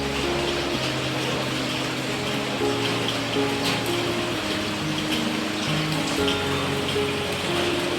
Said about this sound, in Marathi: किती पाऊस आहे बघा.